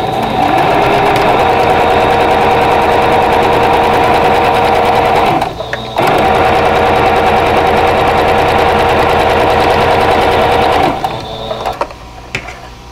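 A sewing machine stitches quilt block pieces for a vintage Carolina Lily block, a steady loud whirring run that pauses briefly near six seconds, resumes, then slows and stops near the end.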